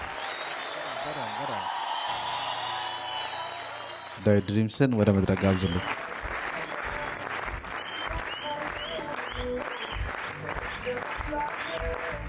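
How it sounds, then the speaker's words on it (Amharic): An audience at an Ethiopian motivational talk bursts into loud applause for a few seconds, following and overlapping an announcer's voice, which continues speaking afterward. "ጭብጨባ በድጋሚ ቢደገምለት ደስ ይላል"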